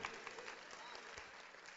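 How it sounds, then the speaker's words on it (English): Live audience at an Oakland speaking event claps steadily for the whole stretch, a dense, even patter heard from the room, with no voices rising above it. "Y'all just clapped."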